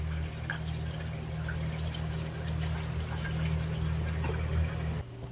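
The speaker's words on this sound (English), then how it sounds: "Okay, we are flushing." Water pouring and trickling steadily through a flushed toilet and newly installed drain pipes with a rubber Fernco coupling, a continuous close rushing flow that ends abruptly near the end.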